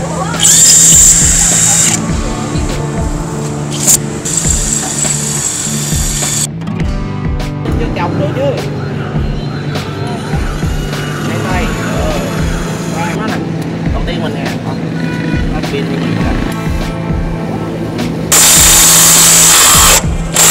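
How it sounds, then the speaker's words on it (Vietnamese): A Bosch power drill fitted with a multi-material bit runs in loud, sustained bursts with on-off changes in pitch and load, close up, while people talk over it at a hands-on training session. "bạn khoan một tay cũng được. Đúng rồi, mũi đa năng á, đa vật liệu á."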